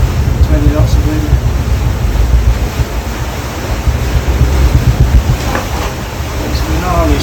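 Strong wind and breaking waves surround a sailboat at sea in about 20 knots of wind, a loud continuous roar of gusting wind buffeting the microphone over rushing water and surf, with a voice faintly in the mix.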